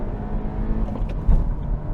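A 2022 Honda Civic Hatchback pulls hard from a launch at about 2,500 RPM, its engine a steady low drone heard from inside the cabin, with one brief louder surge near the end.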